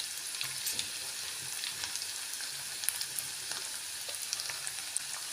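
Green chillies sizzle and fry with ginger and garlic in a pan for a Kerala egg curry, a steady close crackle of hot oil with small pops throughout.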